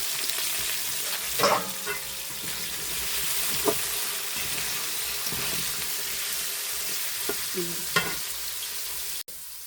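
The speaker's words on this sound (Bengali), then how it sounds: "ভাজতে দেখো এখন গাজরগুলো দিয়ে দিচ্ছি" Carrots fry in a pan of oil for a Bengali khud pulao, giving a steady broadband sizzle throughout. A few louder stirring clinks and scrapes break through near the start, the middle and the end.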